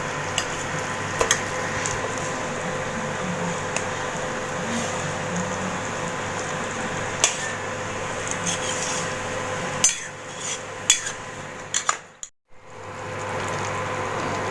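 Egg and drumstick gravy frying and sizzling in a pan, with steady sizzle and occasional utensil clinks against the pan, briefly dropping out near the end before resuming.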